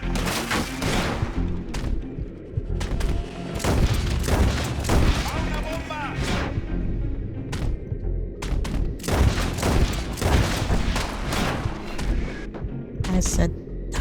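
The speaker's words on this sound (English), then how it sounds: "John, quit shooting the pole" Gunfire crackles in Red Dead Redemption 2 with repeated loud shots in clustered bursts and booming reports that sometimes overlap. A player's voice talks among the blasts.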